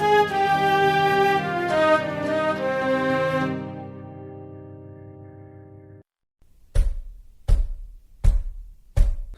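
A cartoon door is knocked on in four loud, evenly spaced thumps after a stretch of music fades out, with no talk over the knocks.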